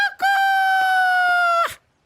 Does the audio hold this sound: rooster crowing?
yes